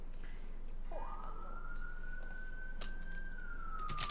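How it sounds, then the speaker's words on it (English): A police siren from the Doctor Dekker video game wails in a long rising-and-falling sweep over a steady background hum, fairly clear and unaccompanied by talk. "Sirens coming for you too."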